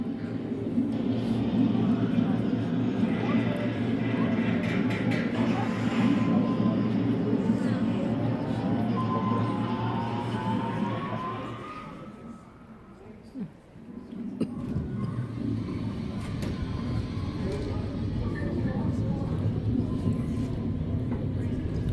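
A broad engine rumble holds steady, fades to a quieter lull midway, then returns as an airplane passes overhead at an outdoor aquarium exhibit, with a faint voice mixed into the background.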